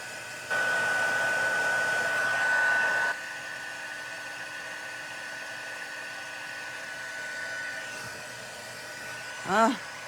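A heat tool blows hot air over embossing powder dots on a card, a steady whooshing whine that rises, then settles into a lower continuous drone before a brief squeak near the end.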